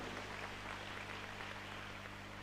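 Applause from an audience at a church feast and prayer service, a dense, steady wash of clapping that holds at an even level throughout without any audible speech.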